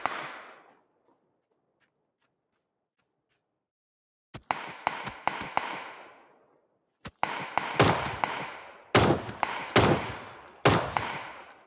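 Gunfire in a first-person shooter game: a single shot, a pause, then bursts of sharp pistol shots coming faster and louder toward the end, close and crisp.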